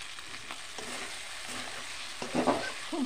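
Mutton with boiled peas, garam masala and salt fries in a pan with a soft, steady sizzle; a few louder stirring scrapes and clinks come near the end.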